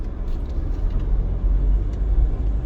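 A car driving along Spanish Town Road in Kingston, Jamaica, giving a steady, loud low rumble of engine and road noise from inside the vehicle, with faint traffic sounds over it.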